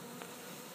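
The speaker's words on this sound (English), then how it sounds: "These two bees don't want to leave me." Honeybees buzz close by in a brief, faint, steady hum.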